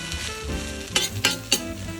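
Potato and egg sizzle steadily in a frying pan, with a few sharp scraping clinks from a utensil as the food is turned over. The sounds are close and clear, with no voices.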